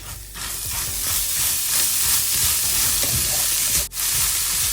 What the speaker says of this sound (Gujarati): થોડી વાર માટે રોસ્ટ કરી લઈશું ધીમા ગેસ ઉપર